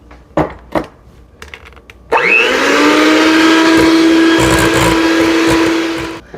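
An electric hand mixer whirs steadily through almond cupcake batter, loud and close, starting after a few knocks on the bowl and running at an even pitch for several seconds before easing off.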